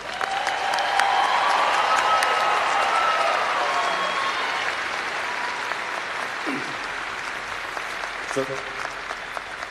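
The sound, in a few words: audience applause at a hooding ceremony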